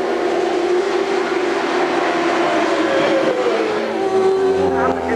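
Superbike engines at a British Superbikes race, including a B&M Yamaha, whining and rising in pitch as bikes climb a hilltop and run downhill, a continuous loud roar with a commentator talking over it.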